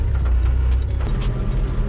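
A running engine on an old-body-style Chevrolet truck rumbles loudly and steadily from inside the cab while it drives, with a faint regular ticking over the drone.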